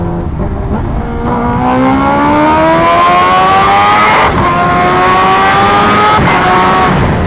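A Kawasaki H2R motorcycle accelerates hard through gears on a road with traffic, its loud, close engine whine climbing steadily in pitch, dipping briefly at a shift, then pulling again, heard alone under wind rush.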